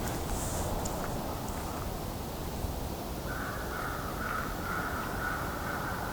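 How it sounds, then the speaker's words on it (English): Several crows caw in the distance over a steady outdoor hiss, with scattered harsh calls coming through now and then. "As you can hear, there's also a lot of crows here."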